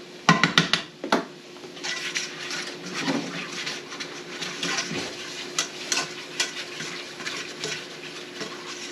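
Flour cooking in a pan for a garlic parmesan sauce, a soft sizzle with a few clinks and scrapes as it is stirred, fairly quiet and steady, with no talk.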